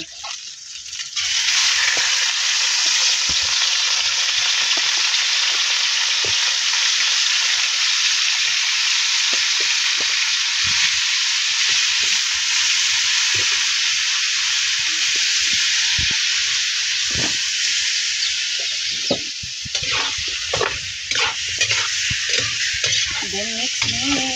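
Chicken pieces frying in a hot pan for chicken adobo give a loud, steady sizzle that runs continuously, with scattered clinks and scraping from stirring toward the end.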